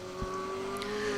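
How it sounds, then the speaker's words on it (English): A D2 category Ford Escort rally car passes on a forest stage, its engine note held steady with a faint rise as it goes by at moderate distance, no one speaking. "Peter Hinton and Lewis Sim in a D2 category Ford Escort."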